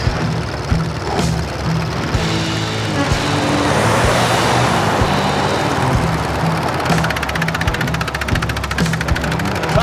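A truck rumbles past on a rural road, a loud, steady engine drone swelling and fading with rhythmic low thumps, close by and without talk.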